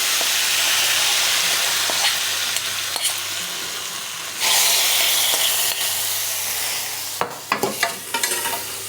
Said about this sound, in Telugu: ఇప్పుడు మనం నేతితో పోపు పెట్టుకున్నాం కదా మనం అందులో కొంచెము ఇంగువ కూడా వేసినాం